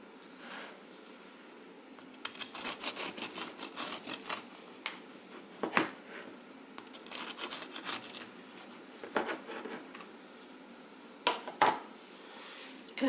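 A knife slicing through a cooled homemade apple cinnamon loaf on a cutting board, heard as a run of close scraping, crunchy cuts with short pauses and a few sharper clicks, no talking.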